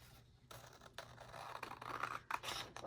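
Scissors cut through paper while crafting envelopes and tags, giving quiet, close, irregular snips and scraping rasps with no voices.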